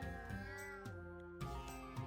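Cats meowing in the video game RuneScape 3, a few short mews rising over steady harmonic background game music, with no talk.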